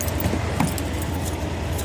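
Keys jangle in short, light rattling bursts while a car is being locked, close to the microphone with faint background noise and no talking.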